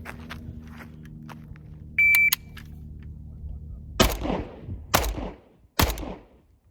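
Three loud, sharp rifle shots from a Yugo M70AB2 with an underfolding stock ring out about a second apart, each with a decaying echo, after a stretch of quiet outdoor background hum.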